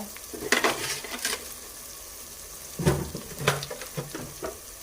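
Chilli powder and salt being stirred into a fish curry in a pan, soft scraping strokes and light clinks with a faint sizzle underneath, close and fairly quiet, coming in two short bursts.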